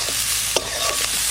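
Vegetables sizzle and fry in a pan with salt, a close steady hiss broken by a couple of short stirring clanks, no one speaking.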